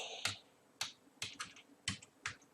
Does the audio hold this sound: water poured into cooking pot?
no